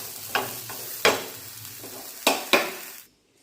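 Spices and herbs for a green masala for pomfret fish fry in a pan, giving a low sizzle broken by four sharp stirring scrapes against the pan before the sound cuts off.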